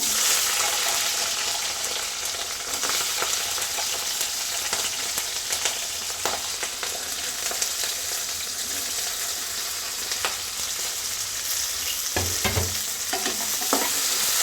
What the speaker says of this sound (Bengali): এখানে আছে রসুন, পেঁয়াজ আর কাঁচামরিচ আর শুকনো মরিচ ভাজা। এখন আমি এটি তেলে ছেড়ে দেব।